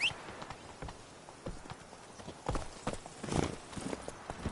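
Horse hooves clip-clopping at a quick gallop on Roach in The Witcher 3: Wild Hunt, Blood and Wine, a steady pounding rhythm with some louder thumps near the end and a faint voice over the top.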